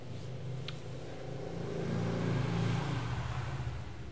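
Street traffic outside a house, heard faintly from inside a living room through a USB condenser microphone: a low steady rumble that swells as a vehicle passes, with a faint brief higher sound early on.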